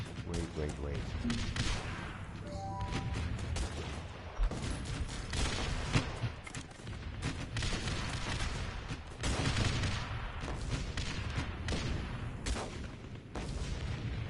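Machine gun fire and explosions in the strategy game Guns Up!, continuous rattling volleys with booming impacts throughout, a busy battlefield mix with someone talking over it.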